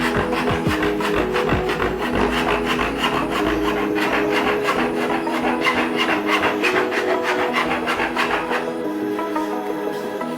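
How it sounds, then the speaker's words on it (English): Hand file rasping rapidly back and forth on the cut edge of a Subaru WRX STI bumper for front-mount intercooler fitment, a steady close scraping rhythm that stops near the end. "Just needs a bit more filing."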